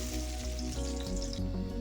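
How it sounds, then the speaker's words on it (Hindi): Garlic dropped into hot oil left after frying dal sizzles steadily, a close, continuous crackling fry lasting under two seconds with no voices. "इसी तेल पे ये लहसुन को ऐड कर देंगे"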